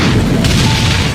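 A rocket-launcher explosion in a movie scene, one loud, sustained, broad roaring blast filling the moment with no speech.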